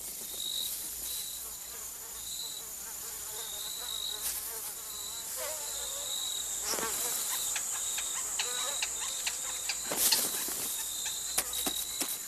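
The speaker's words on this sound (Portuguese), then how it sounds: "Uma fina camada de polpa de fruta atrai vespas, marimbondos e pica-paus de gila." Wasps and other insects swarm the thin sweet pulp of cactus fruit in the California desert, a steady close buzzing drone with repeated high chirps running through it and no voices.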